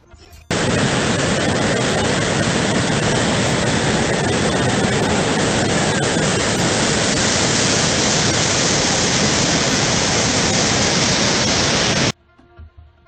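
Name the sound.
waterfall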